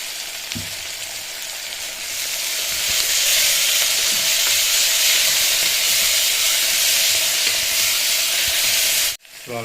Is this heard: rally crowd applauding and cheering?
no